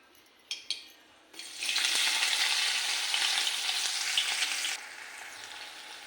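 Chopped onion drops into hot oil with cumin and mustard seeds in a kadai on a gas stove, bursting into a loud, steady, close sizzle that holds for several seconds after a couple of brief clinks, then eases slightly.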